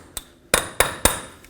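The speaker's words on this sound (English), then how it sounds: "with a punch and a hammer, make sure that your axle breaks free" A hammer strikes a punch four times to break a seized front axle free of the hub on a 2007-14 Chevy Silverado, giving sharp metallic clanks spaced about a quarter second apart, close and clear with no talk.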